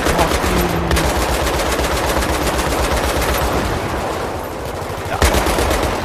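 Mounted gun in the video game Battlefield 3 fires in a dense, sustained automatic burst, loud and continuous for the whole stretch with a sharp blast near the end.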